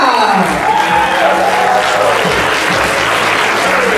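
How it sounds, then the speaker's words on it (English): A theater audience at a live stage play gives loud, sustained applause, dense clapping filling the room without a break, with a little crowd noise mixed in. "get on your feet, stand up and give them a round of applause"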